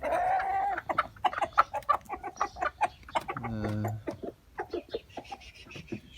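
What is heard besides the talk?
chickens clucking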